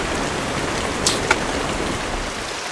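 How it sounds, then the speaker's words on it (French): Steady, dense hiss of rain falling on a roof on Tofua, close and even, with a couple of brief louder drips near the middle. "Hier il a plu, aujourd'hui il pleut"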